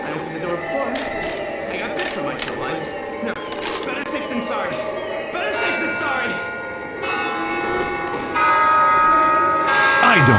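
In Left 4 Dead 2, a church bell tolls repeatedly with bright metallic ringing, layered over game noise and clattering effects, while voices talk throughout.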